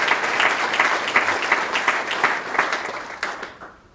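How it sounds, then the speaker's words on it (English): Warm applause at a Martin Luther King Jr. breakfast, many hands clapping close together with sharper individual claps, tapering off and dying out near the end. "Just give him a round of applause."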